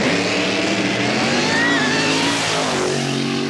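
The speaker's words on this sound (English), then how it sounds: "Capitanio's engine sounding more and more horsepower as he heads towards the finish line" An Australian funny car drag racer's engine roars at full power down the strip toward the finish line, a loud, continuous, dense engine drone that stays steady and close throughout with no voices.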